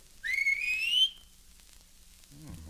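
A man gives one long, rising whistle to call his horse, loud and close. It fades into quiet, with a few low knocks near the end.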